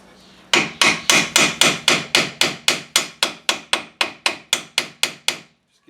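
Hammer taps on a seized brake caliper of a 2004 GMC Sierra 1500 during a brake job: about twenty sharp, evenly spaced metallic strikes in a steady rhythm, close and loud with no talking.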